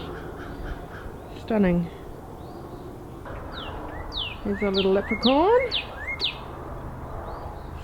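Birds calling and chirping on a lakeside camp morning, a mix of short chirps and crow-like caws at moderate distance, with a person talking between the calls.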